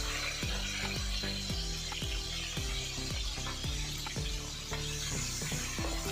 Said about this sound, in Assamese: ইয়াত আমি দি দিম এতিয়া পিঁয়াজখিনি।